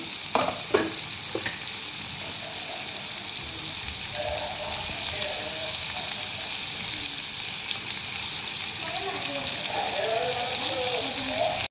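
Paneer cubes frying in a pan, a steady bright sizzle and crackle held close throughout, with a few scraping stirs near the start and a faint voice speaking over it.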